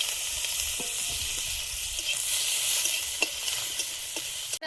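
Taro leaf frying with dried chilli and crushed garlic gives a steady hissing sizzle in hot oil, loud and continuous with faint scattered stirring clicks; close, no talk.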